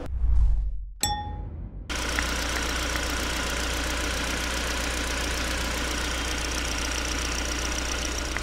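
A sharp metallic clunk and ringing ding as the hood latch of a 2023 Hyundai Grandeur IG 2.5 releases and the hood lifts, followed by a steady engine idle hum.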